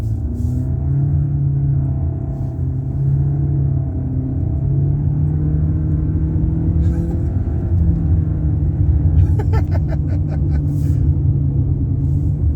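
A 2020 Mitsubishi Eclipse Cross with a 1.5 turbo engine drones steadily from inside the cabin, its engine pitch dropping and rising as manual gear changes are made, with faint clicks near the end.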